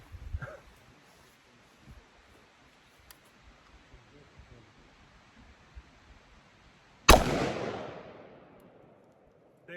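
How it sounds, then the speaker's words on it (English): A single sharp gunshot from a Daniel Defense pistol firing a 62 grain round at cast iron skillets, loud and close, with a long decaying echo trailing after it against a quiet outdoor background. "62 grain controlled chaos out of the Daniel Defense pistol"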